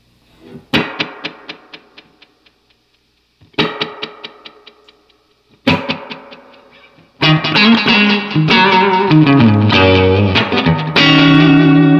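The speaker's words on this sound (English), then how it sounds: "Probably an echo sound that I would use quite heavily would be number 7." A Roland RE-201 Space Echo tape echo repeats sharp plucked notes in three bursts, each trailing off in fast decaying repeats, then a loud sustained swell of dense overlapping echoes fills the rest.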